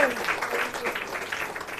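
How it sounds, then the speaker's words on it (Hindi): A congregation at a Christian prayer meeting in Varanasi claps for a sister in a soft, scattered patter, with a voice speaking over it near the start. "ताली बजाएंगे ये बहन के लिए तेज से"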